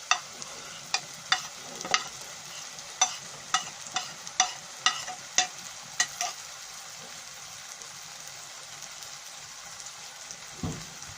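Chopped capsicum (shimla mirch) fries in a pan for an aloo shimla mirch salan, a steady soft sizzle punctuated by a dozen sharp, regular scrapes and taps of a spoon stirring, quieter and sparser toward the end.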